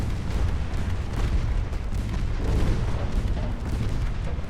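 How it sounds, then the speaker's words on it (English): Torpedo striking a warship in Ultimate Admiral Dreadnoughts: loud, continuous booming roar of explosion and gunfire, rumbling without a break throughout. "Hey, look at you had a torpedo hit."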